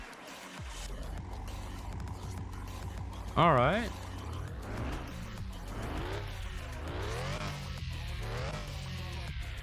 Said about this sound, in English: Let's start this thing up because I want to see how it sounds.